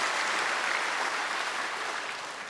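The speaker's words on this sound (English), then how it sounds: "Give a very strong clap of hand to God" A church congregation at a Sunday service clapping their hands, a thick, continuous roar of many hands at moderate loudness, tapering off slightly at the end.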